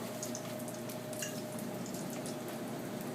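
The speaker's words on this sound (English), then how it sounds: "I'm going to add some red wine to it and then some beef stock" Red wine poured into a pot during a braised oxtail recipe, a steady, soft liquid trickle and splashing that runs unbroken at moderate volume.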